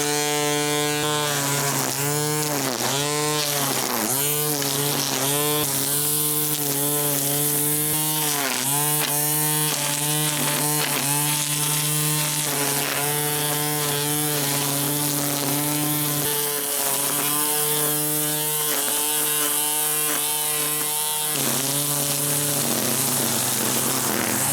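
An electric string trimmer cuts and edges grass in a yard, its motor whining steadily with rising and falling pitch as it bogs into growth, loud and close throughout with no talk.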